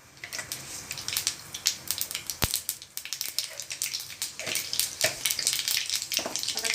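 Cumin seeds hit hot oil in a kadhai and sizzle with a steady crackling hiss. Sharp pops and spits are scattered through it, close and moderately loud, with no talking.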